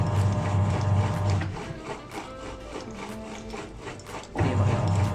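An Aftron automatic washing machine runs after a drain repair, giving a steady close mechanical hum and whir with a low rumble and intermittent clicking and knocking, strongest at the start and end.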